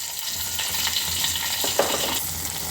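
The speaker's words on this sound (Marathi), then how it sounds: "तुपामध्ये थोड्याशा मिरच्या भाजून घेऊया." Green chillies fry in ghee with a steady, close sizzle and crackle, a few sharper pops near the end, and no voices.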